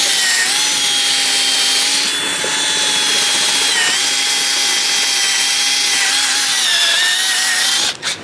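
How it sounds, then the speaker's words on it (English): A power drill running continuously into strong birch wood while building a car audio bandpass box port, a loud, sustained whine with small dips in pitch, cutting off abruptly at the very end. "Okay, so I'm just going to basically drill out a hole."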